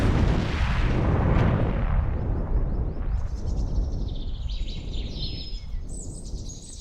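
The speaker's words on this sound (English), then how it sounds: "Jeremy, Emily, and Anthony all heard an explosion in the distance" A deep, rumbling boom rolls on and slowly fades, with birds chirping faintly overhead as the roar dies away.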